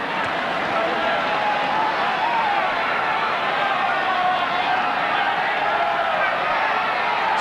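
A rugby league stadium crowd of around 24,000 roars steadily in support of the Canberra Raiders against Manly in 1994, a dense, continuous wash of cheering with commentary running over it.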